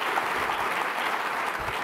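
Keynote audience at a developer conference giving sustained, even applause, a dense wash of many hands clapping throughout.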